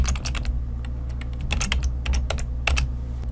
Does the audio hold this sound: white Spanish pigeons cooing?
no